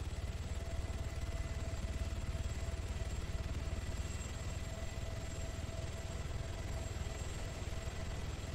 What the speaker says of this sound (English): Seenath, bring that chopper in